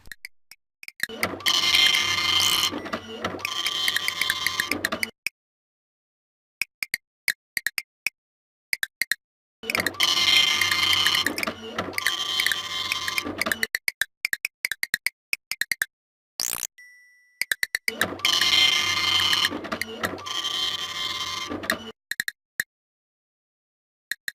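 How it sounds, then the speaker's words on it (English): Cyber printer in the video game Space Quest 6 running through three loud mechanical printing bursts, each a few seconds long and rattling, separated by silent gaps with sparse clicks and ticks. "The cyber printer accepts your cyber file gratefully and begins to print."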